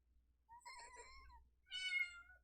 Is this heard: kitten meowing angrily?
yes